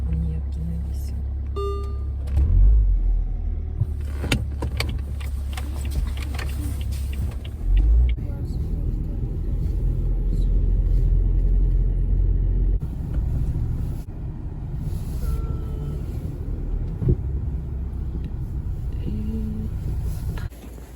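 A car drives along a road on a cold day, its engine and tyre rumble steady and close from inside the cabin, with occasional louder bumps and no talking.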